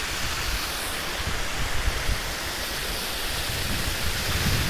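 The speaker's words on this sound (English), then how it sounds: "first I'm gonna take an image of this little stream which runs over a cliff and creates a beautiful little waterfall" A small stream in Norway spills over a cliff into a little waterfall, giving a steady, close, full-bodied rush of falling water with no breaks and no voices.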